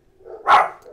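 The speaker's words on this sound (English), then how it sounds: "I don't know if you can hear the dog barking next door." A single bark from a neighbor's Rottweiler rings out at a distance, a short muffled burst rising from faint background noise.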